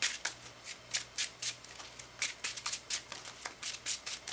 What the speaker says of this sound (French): Je vais bien brasser parce que toutes mes cartes 0 étaient toutes sur le dessus.